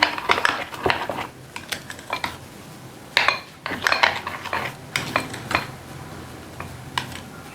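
Cucumber mayonnaise white sauce being mixed in a bowl, heard as a scatter of light utensil clinks and scrapes against the bowl in irregular bursts, close and moderately loud with no talking.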